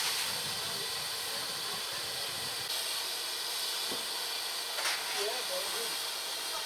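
A steam locomotive on the Gloucestershire Warwickshire Steam Railway building a head of steam before departure, a steady loud hiss filling the air with faint clanks and brief bursts, and murmuring voices nearby.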